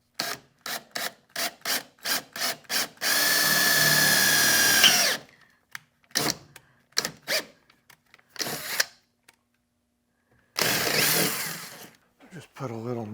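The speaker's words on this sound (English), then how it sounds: "we're going to start with a smaller drill and go up to a 3/8" A power drill starts and stops in short bursts, then grinds through the metal of a 1964 Chevelle in two longer sustained runs, with quiet gaps between.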